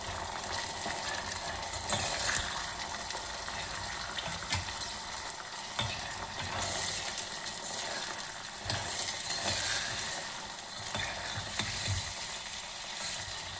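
Fresh green dudh mogra (kashi val) bean seeds fry in a pan with a constant crackling sizzle, broken by occasional stirring scrapes and clinks, close and alone without speech.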